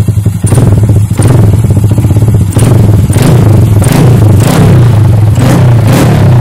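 A Camaro engine with an aftermarket intake revs hard and close, a loud, throaty rumble of repeated throttle blips and pulses with a faint whistle riding over the roar and no talking.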